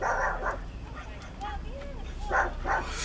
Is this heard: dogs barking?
yes